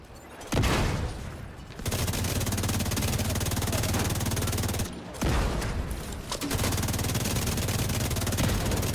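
Sustained rapid automatic gunfire in a video game, loud and dense, broken by two short pauses before the shooting resumes.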